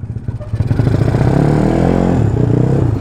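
A small motorcycle engine, a Binter or similar Indonesian bike nearly out of fuel, runs in a rough, uneven idle near the listener. The chugging pulses rise and sputter without steady revving.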